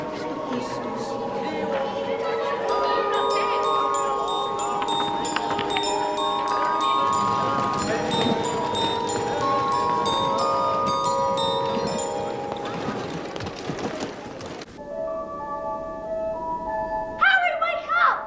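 A chiming toy bell melody from a Lego Harry Potter advent calendar Hogwarts set rings out with bright repeated tones over a busy background of voices and music, then a brief sparser chime near the end.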